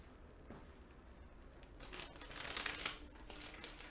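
Tarot cards being shuffled by hand nearby, a soft crinkly riffling and rustling that builds to a denser, brighter burst in the second half, with no talking.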